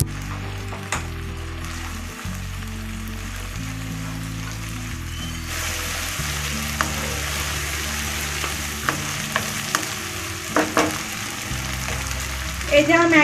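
A paste of ginger, garlic, onion and green chilli sizzles while being stirred in a pan for chicken pulao, with a steady frying hiss under low background music and occasional scrapes of the spoon.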